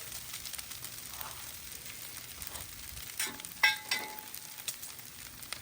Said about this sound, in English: Want to get some good contact with a lot of those potatoes on the griddle.